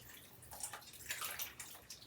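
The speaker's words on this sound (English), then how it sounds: "we're going to add some water" Water poured into a pot of chilli, a soft splashing, trickling stream coming in a few uneven surges, faint and close, with no talk.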